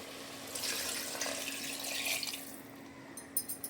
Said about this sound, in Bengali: এবার আমি এর মধ্যে দিয়ে দেব পরিমাণ মতো জল